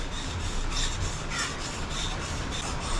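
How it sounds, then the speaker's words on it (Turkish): Soft, rhythmic scraping of a knife being sharpened on a whetstone, even back-and-forth strokes at moderate volume with no one speaking. "Ben burada bıçak biliyorum bak ses çıkıyor"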